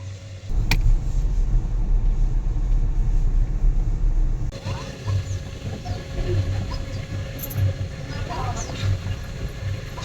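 A car pulls up at a rural spot, its engine rumbling loud and close, the tone shifting partway through as it settles near the listener.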